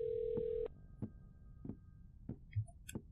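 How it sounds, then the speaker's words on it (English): In the horror video game Nighttime Visitor, a phone rings as a steady electronic tone that cuts off, followed by several evenly spaced soft thumps like footsteps and a few faint high chirps. "I can hear his phone"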